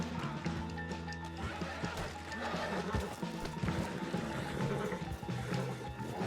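Horses gallop in the open-world Western game Red Dead Redemption 2, with steady drumming hoofbeats layered over a dense, busy game soundscape of tones and clatter.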